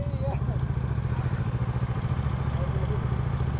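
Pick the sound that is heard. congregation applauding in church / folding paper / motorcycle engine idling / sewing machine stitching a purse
motorcycle engine idling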